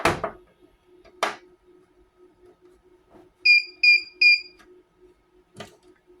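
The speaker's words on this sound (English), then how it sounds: "It's already beeping at me. That means it works." A Sailnovo egg incubator gives three short, shrill electronic beeps in quick succession against a quiet room with faint clicks and handling noises.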